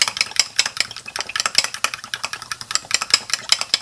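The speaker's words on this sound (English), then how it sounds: "Mixerate the eggs pretty well." Eggs and chopped green onions whisked briskly in a bowl, a utensil clinking against the sides in a quick, steady rhythm, close and clear with no talking.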